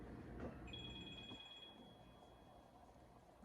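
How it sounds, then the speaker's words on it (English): A phone rings faintly in a home kitchen during pie crust making, a thin steady electronic tone lasting about a second, set against quiet room noise with no talk. "My phone's ringing, but I'm ignoring it"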